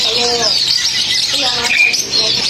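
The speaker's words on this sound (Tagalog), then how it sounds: "ang daming mga bird dyan. Puro may mga laman yung mga cage" Many caged birds chirp and tweet at Yuen Po Street Bird Garden, a dense, close chorus of overlapping high calls with fast trills and whistles and no pause.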